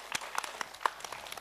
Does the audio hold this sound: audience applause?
yes